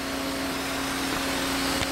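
A vacuum hooked up to a CNC mill to pull away chips cut by a 4-flute 3/8-inch end mill roars in a steady, loud, unbroken whoosh, with no speech.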